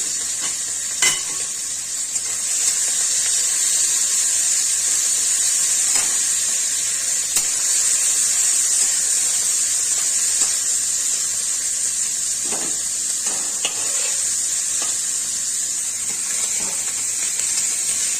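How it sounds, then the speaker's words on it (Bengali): Small tangra and mourala fish frying in hot oil in a kadai, a loud continuous crackling sizzle with a few sharp spatters and utensil knocks, no one speaking. "মাছগুলো তেলের মধ্যে দিয়ে দিচ্ছি।"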